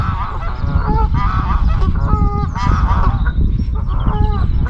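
Loud honking from several geese, close by, in bursts of overlapping calls above a rough, windy rumble at a lakeside fishing spot in spring.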